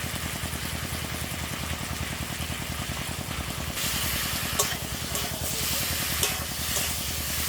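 Fried kohlrabi and potato pieces go into a pan with chopped tomato, salt and turmeric. A dense, continuous sizzle and hiss follows, growing slightly louder partway through, with a few sharp stirring clicks.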